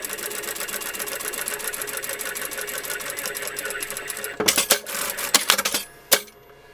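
A sewing machine stitches a Christmas table runner along a marked line, running steadily for about four seconds before breaking into short, irregular bursts of stitching with brief pauses.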